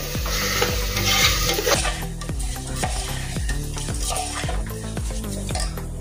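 Washed rice being stirred into rajma in a pot, with repeated scraping strokes and a soft sizzle under a low repeating tonal background.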